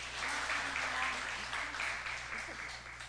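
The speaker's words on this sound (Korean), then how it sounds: "박수 한번 부탁드리겠습니다" A church congregation applauds at a Korean evangelism gathering, steady dense clapping filling the room for a few seconds while a voice carries on over it.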